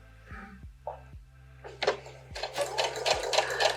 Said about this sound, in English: I'm going to stitch along.